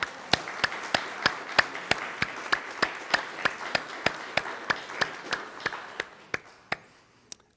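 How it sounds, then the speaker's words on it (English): Slow, evenly spaced claps ring out at a Sunday church service, sounding like a few people in the congregation applauding a musician. The claps stay steady over a faint room wash, then thin out and stop. "we should give an applause anyway for that"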